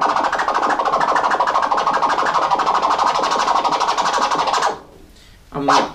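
A DJ rapidly scratches a vinyl record forward and back, making a dense, steady, loud stream of fast rubbery swipes that stops abruptly near the end, followed by a brief short burst.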